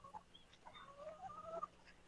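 Chickens and a rooster cluck softly outdoors in short, scattered calls over a quiet background, fairly faint and distant.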